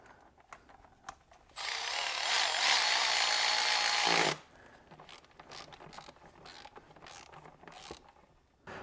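A Milwaukee cordless ratchet whirs in one loud, steady burst of about three seconds, set between quiet clicks and handling noises in a workshop.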